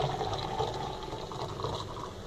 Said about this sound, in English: I have 2 examples of water being poured